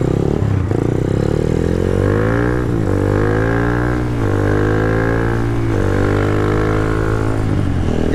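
A Bajaj Pulsar 220 built as a classic supermoto with an RM body, ridden on a Sunday-morning road ride: the engine drones loud and close, rising in pitch through the gears in repeated pulls with brief drops at each shift.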